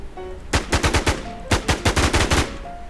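Automatic gunfire from the online survival shooter Infestation The NewZ, two close, loud rapid bursts of shots about a second apart, with faint in-game tones between them and no talk.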